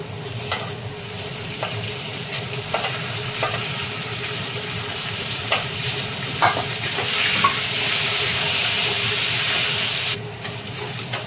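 Pumpkin and yardlong beans frying in a pan for khichuri, with a steady loud sizzle and hiss and occasional scraping stirs of a spatula, no talking.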